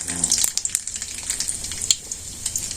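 Mustard seeds sizzle and crackle in hot oil as a village cook starts a sour dish with kusu leaves, with bright, busy spitting and popping close up and no talking.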